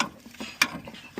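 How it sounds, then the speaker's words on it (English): A ratchet wrench clicks in short, uneven bursts, close by, while bolts are tightened on the transmission module of a Nissan X-Trail T32; no speech. "let's secure the bolts for the transmission module"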